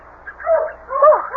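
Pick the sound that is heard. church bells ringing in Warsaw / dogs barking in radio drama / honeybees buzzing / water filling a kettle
dogs barking in radio drama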